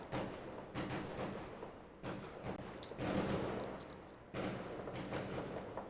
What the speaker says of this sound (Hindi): ये पटाखे बज रहे हैं